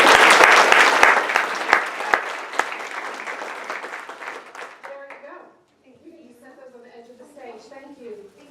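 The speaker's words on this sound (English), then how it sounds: "Let's give them a huge round of applause." An audience at a talk at Crystal Gardens in Southgate, Michigan bursts into loud sustained applause that gradually fades after about five seconds, with a speaker's voice following.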